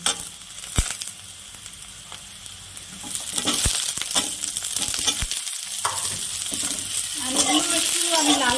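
Sliced potatoes are stir-fried with browned onions in a pan. A close, loud sizzle builds as they go in, with sharp clinks and scraping stirs throughout and a brief voice near the end.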